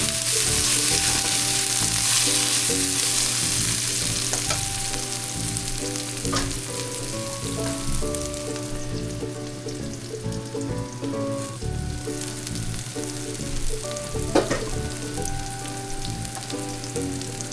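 Onions and garlic frying in olive oil for a marinara sauce, a continuous close crackling sizzle like light rain, with occasional utensil taps and no talking.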